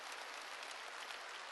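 Applause from a church congregation during a Sunday sermon: a steady, dense patter of many hands clapping, fairly faint and even throughout, with no voices.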